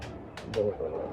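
A breeder pigeon cooing close by in a short low burble, with a couple of brief rustles before it.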